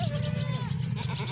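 A crossbreed goat bleats close by in a short, wavering call, with a person's voice and low background noise around it.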